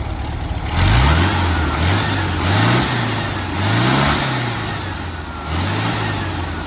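A VW engine fitted with a restored 1931 Schebler carburetor runs close by, its steady hum swelling in several brief revs before settling back to a rough, even idle.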